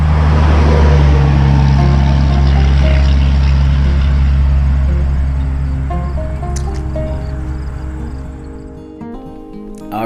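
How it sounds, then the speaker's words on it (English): A loud, heavy truck engine rumble dominates, roaring close by and slowly fading as it moves away, with some traffic noise remaining. "I left that truck in there just to show how loud it was."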